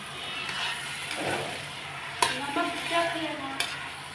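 Vegetable curry with potato stirred in a pan over the heat: a soft, continuous sizzle with scraping strokes and a couple of sharp utensil clinks against the pan, close and fairly quiet.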